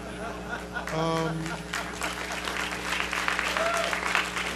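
Conference audience at a hacker convention talk on databases and privacy bursting into applause, clapping spread across the room with a voice speaking over part of it.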